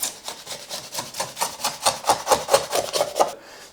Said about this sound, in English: I've just got to scrape off some glue.